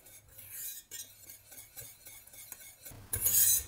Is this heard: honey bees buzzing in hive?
no